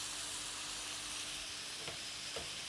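Tomatoes and masala fry in a pan with a soft, steady sizzle, plus a couple of brief stirring scrapes near the end, faint and close, with no talk.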